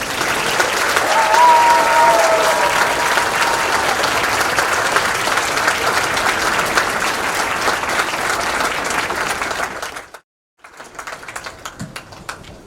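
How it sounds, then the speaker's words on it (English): A graduation ceremony audience at Marine Corps Recruit Depot applauds for Hotel Company staff, with dense, steady clapping for about ten seconds before it cuts off abruptly, followed by a few scattered, thinner claps. "please join me in a round of applause for the company staff of Company H"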